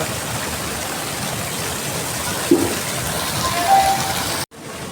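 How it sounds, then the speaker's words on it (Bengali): Water from a fountain or small waterfall in a park during a December picnic outing, a steady broadband rush that continues throughout, with a brief click near the middle and a sudden dropout toward the end. "কি সুন্দর ঝর্ণার জল।"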